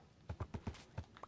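Horse hooves clip-clop in a quick, even run of about six soft steps in Minecraft, faint and somewhat distant.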